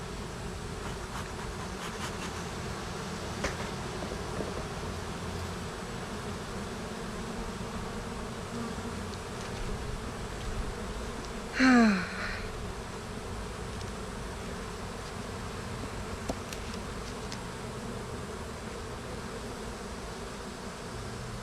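Honey bees hum around an opened hive in a steady, soft drone that runs the whole time, with one nearer bee buzzing loudly past for a moment midway.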